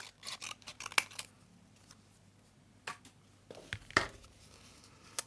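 Scissors snip sewn fabric or paper free to tidy an edge on a handmade soft-cover junk journal, a few close, sharp crisp cuts spaced apart with quiet handling between.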